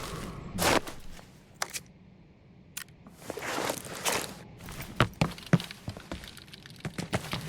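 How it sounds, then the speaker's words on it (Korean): Footsteps in the shooter game Arena Breakout, a run of soft thuds and scuffs that grows busier toward the end, with a few sharper clicks and knocks among them, all heard without talk. "어, 발소리 나는데?"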